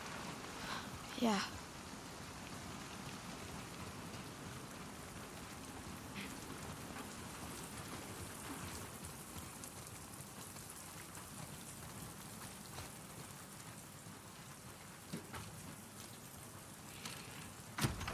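Steady rain falls in The Last of Us Part 2 as a constant broad hiss with occasional louder drops, moderately quiet and continuous, with faint talk and a brief thud mixed in.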